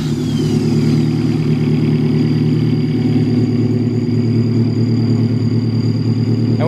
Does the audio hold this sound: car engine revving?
yes